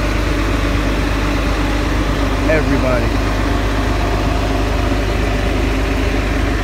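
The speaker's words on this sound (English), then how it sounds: "a lot of torque on the low end, and a free-flowing exhaust. Less restrictive, should I say, as you can hear" Nabi 2005 series transit bus with a free-flowing, less restrictive exhaust, its engine giving a loud, steady low rumble at idle close by while someone talks over it.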